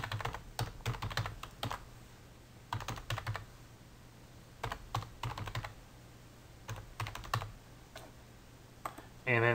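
Bursts of typing on a computer keyboard come in quick clusters of keystrokes separated by short pauses, close and fairly quiet in a still room.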